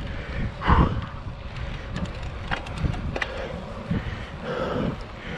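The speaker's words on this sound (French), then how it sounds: "je suis contre le vent" Steady gusty wind buffets a cyclist riding into a headwind on a 60 km out-and-back road ride, a constant rough rumble with a few louder surges and faint clicks, and no talking.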